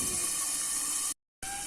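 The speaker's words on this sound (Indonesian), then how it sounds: "selagi menunggu ikannya matang, digoreng" Fish frying in hot oil under a lid hisses and sizzles loudly and steadily, broken by one short silent gap before the hiss resumes.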